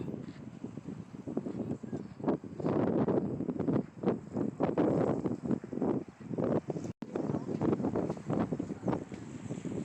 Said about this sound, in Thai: ลมพัดด้วยครับ